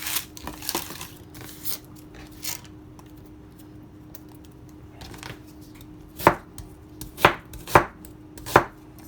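A knife chops an onion on a cutting board while soup is being made, with faint scattered taps early on and then four sharp, close chopping strikes spaced about a second apart near the end.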